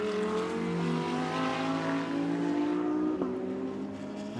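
An Audi GT race car pulls out during a GT Asia race in Japan, its engine droning steadily and rising in pitch as it accelerates away, moderately loud with a continuous background roar.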